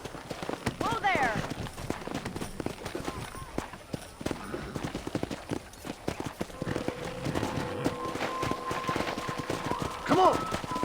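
Horse hooves gallop in Red Dead Redemption, a rapid clip-clop running steadily under frequent spoken dialogue, with occasional whinnies and distant gunfire mixed in.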